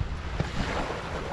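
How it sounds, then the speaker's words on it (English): Wind gusts and waves buffet a tent on the shore of Ullswater lake in changeable weather, a loud, close, rushing roar with a couple of soft thumps and no voices. "waves are blowing through my door"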